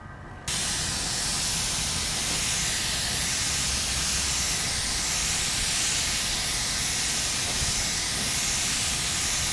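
A paint spray gun turned down to low pressure sprays gold paint onto a Kawasaki Ninja tank, giving a steady, loud hiss that starts abruptly and runs on without a break.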